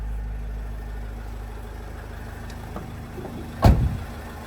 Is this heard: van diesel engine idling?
yes